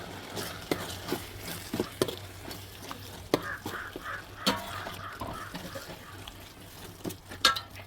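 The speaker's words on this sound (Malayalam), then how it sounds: "ഇപ്പം നമ്മൾ മല്ലിയിലയും കൂടെ ചേർത്ത് നല്ലപോലെ ഇളക്കി കൊടുക്കാം." Coriander leaves being stirred into chicken biryani in a pot, a steady soft scraping and stirring with light clinks of the spoon against the pot, fairly close and alone with no talk.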